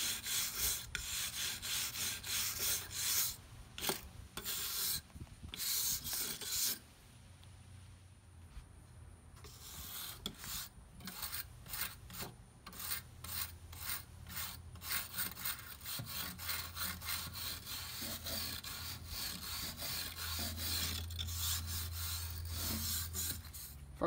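A tool scrapes old gasket residue off a Kamado Joe ceramic grill in rapid rhythmic back-and-forth strokes, close and rasping, pausing briefly partway before resuming steadily.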